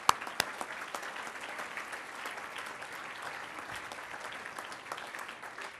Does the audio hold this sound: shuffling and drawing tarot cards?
no